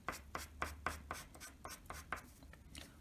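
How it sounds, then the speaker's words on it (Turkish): A pencil sketching grass on paper, with quick scratchy strokes repeating in a steady rhythm, close and fairly quiet, with no voice. "şuralara da otlar çiziyorum"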